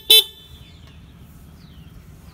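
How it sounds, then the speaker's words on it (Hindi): A single short, sharp Hero Glamour 2020 motorcycle horn beep sounds close by, then quiet low rumble with faint background noise. "हॉर्न भी आपका डिसेंट है,"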